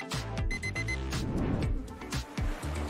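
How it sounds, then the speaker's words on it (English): An alarm clock rings loudly and without pause for about three seconds, a dense, bright electronic ringing with no voices over it. "The correct answer is an alarm clock."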